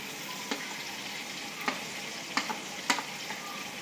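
Capsicum and chilies fry in a pan with a steady soft sizzle, punctuated by a few brief stirring scrapes at moderate distance.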